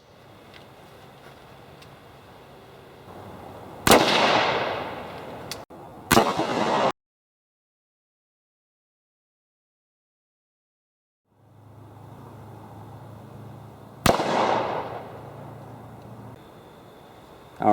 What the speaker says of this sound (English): let's see what this steel core ammo is going to do to a hard drive